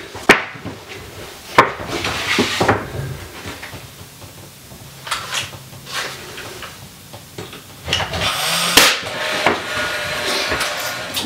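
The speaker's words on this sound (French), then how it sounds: "Donc je vais le clouer. Je vais clouer celui-ci." Sharp, separate hammer blows drive nails into the wooden frame of an interior door being installed, sounding at an uneven pace with brief pauses between strikes, close by.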